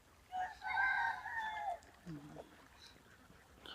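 A few nasal duck quacks ring out close by on a duck farm in West Bengal holding about 400 ducks, followed by a short lower call and quiet farmyard background.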